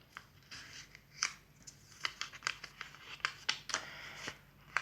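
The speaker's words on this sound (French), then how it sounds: "Je prends un petit post-it. Ah oui, celui-là il est collé." A stuck paper sticky note is peeled free with a run of close, crisp crackles and rustles in short irregular bursts, alone without speech.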